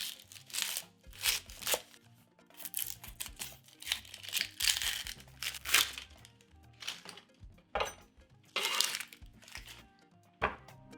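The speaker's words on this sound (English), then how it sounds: "Peel and dice 1 yellow onion." Knife work on a yellow onion: crinkly peeling of papery skin and a string of crisp cuts and taps on a board, irregular bursts close by with short pauses between.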